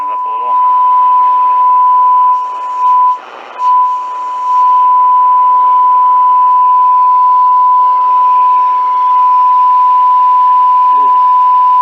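Zenith Trans-Oceanic R600 radio emitting a steady, loud, pure test tone during alignment, held almost unbroken for about twelve seconds with brief dips and faint crackle, a voice speaking briefly over it.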